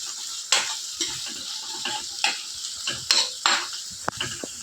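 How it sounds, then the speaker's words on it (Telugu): Egg and tomato fry in a pan for a home-style curry. A soft sizzle runs underneath while a utensil stirs and scrapes, with clinks against the pan at irregular intervals, close by. "ఇవి కొంచెం ఫ్రై అయ్యేదాకా ఉందామండి"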